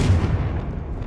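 A Confringo spell blast in Hogwarts Legacy, a single dense, booming burst with a heavy low-end roar that fills the short moment without a break.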